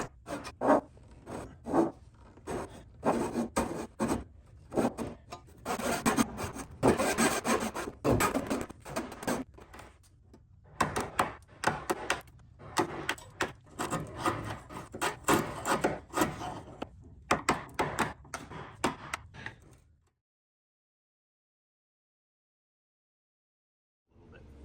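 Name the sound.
cutting through epoxy-bonded wooden stem laminate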